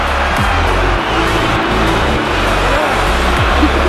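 A loud Formula 1 race car at a race in Qatar, its engine a dense, sustained roar that fills the whole moment with no pauses.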